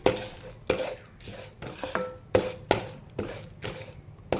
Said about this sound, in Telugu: ఇవన్నీ ఆయిల్లో బాగా కలుపుకోవాలండి